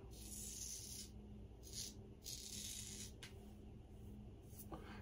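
A copper Alpha Outlaw safety razor mows through stubble in steady scraping strokes, a soft close rasp rising and falling in several passes over a low background hum, with no talk.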